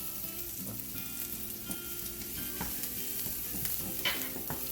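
Cumin and hing sizzling in hot oil in a pan for spinach daal, a steady close crackle with occasional stirring scrapes and no talking.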